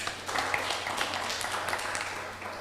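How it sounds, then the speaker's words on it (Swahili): Audience applause at a conference in Tanzania, a steady wash of clapping from a crowd, dense and even throughout at moderate loudness. "Tumpigie makofi jamani."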